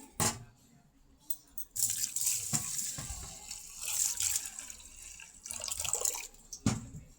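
Water runs from a tap as lentils are set to soak, with an intermittent splashing flow and a few clattering knocks and taps of a container close by.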